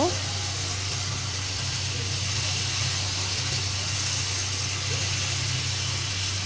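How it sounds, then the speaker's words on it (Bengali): Small chela fish sautéing in a pan give a steady, loud sizzling hiss that runs unbroken throughout, close and continuous. "কিছু সময় আমি একটু কষিয়ে নিচ্ছি"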